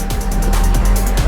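A Toyota, not a Gazoo Racing model, passes close by as a loud, steady engine and road rumble heard from inside a moving car.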